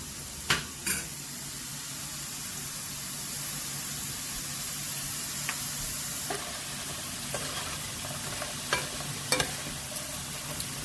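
Russet breakfast potatoes frying in a pan, a constant hissing sizzle with a few sharp scraping stirs at the start and scattered later, close by, with no voices.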